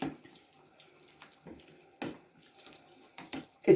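Cold tap water runs over dog food being rinsed in a sink, a quiet trickling flow with a few louder splashes and clatters as the food is stirred.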